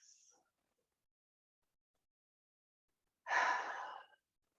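A faint breath at the very start, then quiet, then one deep, close, airy exhale during a postpartum yoga stretch, with no talking.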